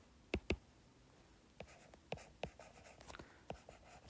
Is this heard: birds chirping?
no